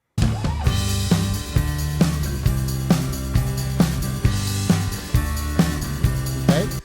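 Strummed acoustic guitars ring bright and full over a steady rock drum beat, with the kick and snare sitting fairly low in a busy, even mix.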